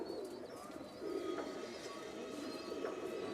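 Firozpuri teddy pigeons coo in soft, low rolling phrases at a distance, with faint higher chirps in the background and no voices.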